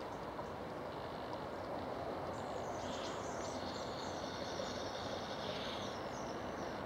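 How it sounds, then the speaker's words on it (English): A low, constant rumble of a distant train rolling into Woldingham, heard from Marden Valley, with faint bird calls and high squeals drifting above it. "I can hear a train somewhere."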